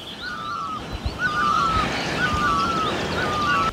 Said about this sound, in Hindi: सुबह सुबह के टाइम पे चारों तरफ से पक्षियों की चहचहाट